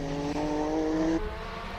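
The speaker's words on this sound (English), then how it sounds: "Oh, 4-wheel spinning there." A 1600-horsepower four-wheel-drive hillclimb race car spins all four wheels on the course, its engine droning loud and steady with a high tire squeal, then easing off toward the end.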